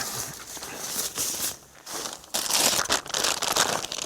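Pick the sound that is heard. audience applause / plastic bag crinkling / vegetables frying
plastic bag crinkling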